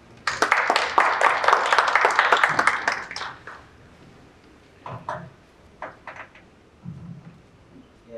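Audience applause at an energy technology conference, a dense burst of many hands clapping for about three seconds, then fading into scattered knocks and small room noises.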